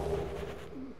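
Birds coo softly in the Dark Souls Remastered video game, a brief low pigeon-like call near and alone, with a faint rumble beneath.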